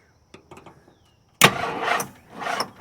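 A 1968 Ford XL engine cranking on starting fluid: a few light clicks and knocks, then a sudden loud burst as the engine churns and catches in rough surging pulses, close by.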